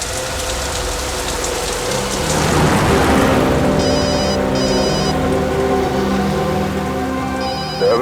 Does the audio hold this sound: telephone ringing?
yes